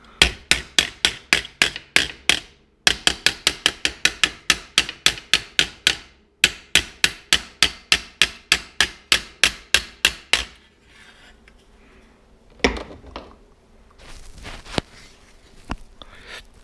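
A hammer strikes metal in metalworking, with steady rapid blows in three long runs separated by short pauses, then quieter scraping and a few scattered hits, loud and close.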